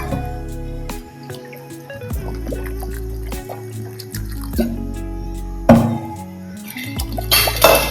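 Water goes into a cooking pot holding meal maker soya chunks, set up to boil on a stove. Drips and splashes sound close and fairly loud over a humming background, with a sharper splash near the end.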